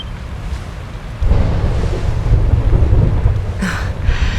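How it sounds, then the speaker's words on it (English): Rumbling thunder rolls through a heavy thunderstorm in Dragon Quest XI: Echoes of an Elusive Age, a loud steady roar of rain and low crackling booms that swells after a second and continues without voices. "Would you look at it thundering away out there?"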